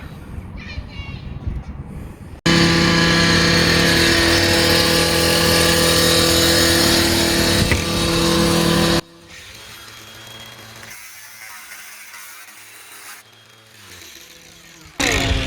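An angle grinder cuts material on a porch roof during work on the lead, tiles and fascia. A loud, close, continuous whine lasts about six seconds, then falls to a quieter rumble, and the grinder briefly starts up again at the end.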